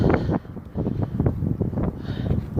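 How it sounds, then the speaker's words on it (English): Strong cold wind buffets a hilltop lookout on Mt Victoria (Matairangi) in New Zealand, roaring and gusting loudly close to the microphone with brief dips and surges. "it is cold, it is windy"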